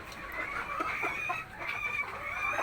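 Backyard chickens cluck steadily close by, a flock of about eight birds with overlapping calls forming a continuous busy chatter that keeps going without a break.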